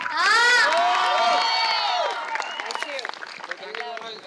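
A crowd at a wedding-anniversary celebration during an Onam celebrity game show cheers and whoops loudly, trailing into scattered clapping and chatter.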